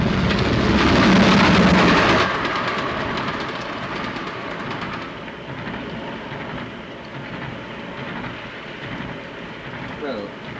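A train runs on rails, giving a continuous broad rumble with a faint rhythmic clatter, louder for the first two seconds and then steadier and slightly quieter, heard without talk.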